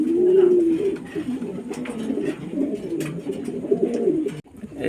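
Several pigeons coo in soft, repeated rolling phrases from close by, steady throughout, at a loft where pairs are kept and sold.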